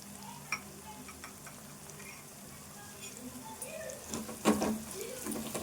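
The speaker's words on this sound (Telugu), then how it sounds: "ఈ ఉల్లిపాయ ఇట్లా ఫ్రై అయినాక ఇప్పుడు కారం వేసుకుందాము" Onions frying in a pan with red chili powder added, a soft continuous sizzle and stirring scrapes that grow busier toward the end, faint and close.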